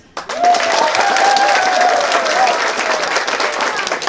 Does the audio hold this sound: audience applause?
yes